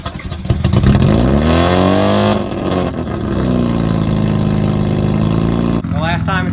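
A Mazda FC RX-7 rotary engine cranks and fires up, then revs loudly in rising and falling sweeps before settling to a rough, buzzing idle, close and dominant throughout.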